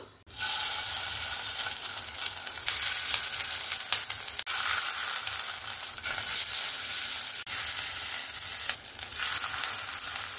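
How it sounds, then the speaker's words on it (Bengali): Fish roe fritters frying in oil in a wok, with a loud, dense, steady sizzle that starts abruptly and runs throughout, broken by a few faint clicks, and no speech. "এবার আমি ওই কড়াইয়ের মধ্যেই মাছের ডিমটা ভেজে নেব"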